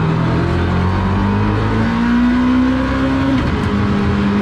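A Honda S600's small engine revs loudly and steadily inside the car, which has no interior trim, carpet or roof, its pitch climbing and then dropping, with a constant harsh drone close by.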